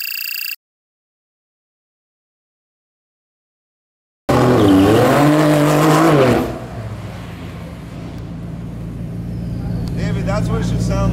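A modified McLaren 765LT drives by loudly and close, its engine rising and falling in pitch through a few seconds of hard revving, then easing into a steady rumble.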